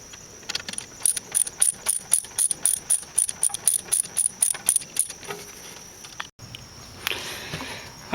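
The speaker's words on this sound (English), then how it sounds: "I torqued them down to about 200 inch-pounds. I used my little 1/4 inch torque wrench." Small 1/4 inch torque wrench ratcheting on the rear brake caliper slide pins of a Mercedes E500 W211, a quick run of sharp rhythmic clicks up close followed by a pause and some faint handling noise.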